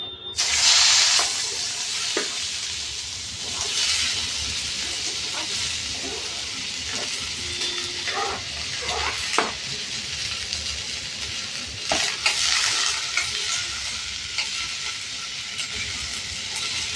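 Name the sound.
onions and tomatoes frying in oil in a kadhai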